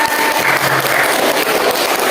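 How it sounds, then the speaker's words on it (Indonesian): Classroom applause for a student group during a coding and AI lesson, a steady wash of clapping from a group of children, fairly loud and continuous, with no talk over it. "Tepuk tangan untuk kelompok 2."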